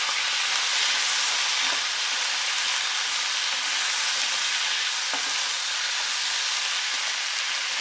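Chilli chicken frying in a pan with vinegar just added over low gas, a dense, even sizzle and hiss filling the whole stretch, with a few soft stirring scrapes, close and loud.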